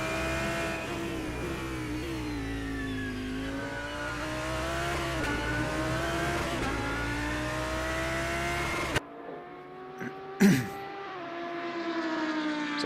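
Race cars in a sim racing game roar at sustained high revs with rising and falling engine pitch, then the sound cuts briefly before another car blasts past and the engines resume.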